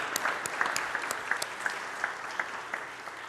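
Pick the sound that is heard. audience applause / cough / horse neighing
audience applause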